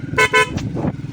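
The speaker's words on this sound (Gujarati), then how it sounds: "ગાઈસ આપણો ખાલી હોરન ચેક કરો" Two short, loud honks from a vehicle horn being tested ring out close by, followed by softer engine rumble and faint noise.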